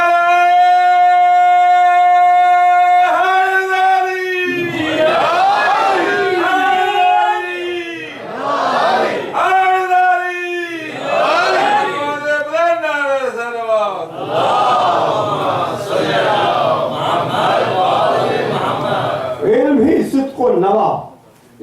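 A crowd at a Muharram majlis chants religious slogans in loud, rhythmic bursts of massed voices, rising and falling over about twenty seconds after a held opening call.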